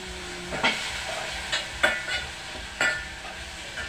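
Small fish and garlic fry in a pan for dinner, giving a steady close sizzle broken by a few sharp stirring scrapes and clinks.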